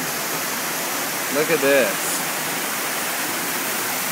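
Broadband rushing of the Karan waterfall carries steadily throughout, a constant noisy roar at moderate distance, with a brief spoken remark over it partway through.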